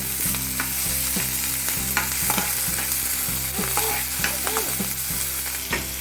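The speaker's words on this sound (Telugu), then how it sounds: "ఇవి ఫ్రై అయ్యే వరకు ఇలా మిక్స్ చేసుకోండి." Onions, curry leaves, cumin and mustard seeds sizzle steadily in hot oil while a spatula scrapes and taps the pan in a regular stirring rhythm, close up with no talking.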